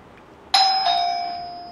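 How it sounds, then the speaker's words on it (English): An electronic doorbell chimes once at a reading gathering in Sridham Mayapur, a bright ding followed by a second lower tone that rings out and slowly decays, clear and alone. "Somebody's ringing. I haven't heard the bell ring before, that's a new one."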